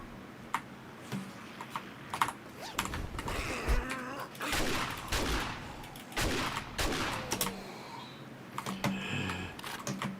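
Gunfire in the survival game 7 Days to Die comes as sharp, irregular shots, close and fairly loud, mixed with clattering clicks and game noise.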